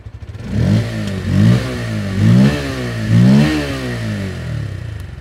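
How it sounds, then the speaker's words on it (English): A 2023 Bajaj Pulsar P150's underbelly exhaust revs close up, rising four times in quick, bassy bursts over a steady idle, with no talking. "So the exhaust is bassy."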